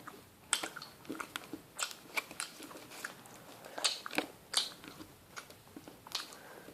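Crisp bites and crunchy chewing on a powdered ice bar come through close and quiet, a string of irregular crackly crunches with no talking.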